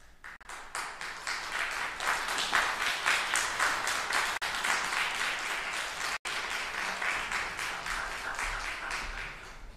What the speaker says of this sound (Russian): еще раз самые дружные аплодисменты